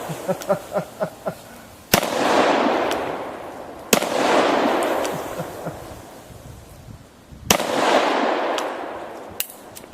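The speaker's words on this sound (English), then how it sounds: "I'm just going to shoot in the area." Three loud, close shotgun blasts fired at Coke cans outdoors, each a sharp crack followed by a long rolling echo, after a brief run of quick clicks or taps.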